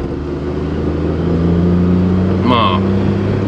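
Cheap used Suzuki Alto Works turbo car, bought for 200,000 yen, driven with a steady engine drone and road rumble from inside the cabin, the pitch rising slightly as it accelerates.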